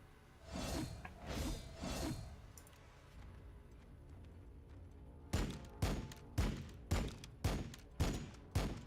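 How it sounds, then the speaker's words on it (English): Gunfire in the Warhammer 40K Battlesector strategy game: three muffled swelling bursts, a lull, then six sharp evenly spaced shots in a steady rhythm, moderately loud with no talking. "We are taking fire."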